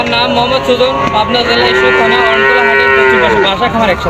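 Holstein Friesian cattle at a Bangladeshi cattle market give a loud, close, drawn-out moo lasting several seconds, with no talk over it.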